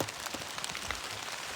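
Steady rain falls outdoors in the woods where a trapper is building log cubbies for fisher, a dense, even patter on surfaces close by, continuous and alone with no voices.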